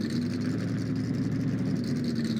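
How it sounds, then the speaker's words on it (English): A steady race car engine drone from the video game NASCAR Racing 2003 at Daytona hums continuously at an even pitch, loud and unbroken throughout, with no talking. "Just hearing the engine of this car."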